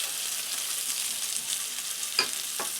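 Meatballs in a thick curry sauce sizzle and bubble steadily in a pan, with a couple of brief stirring scrapes near the end, close and moderately loud.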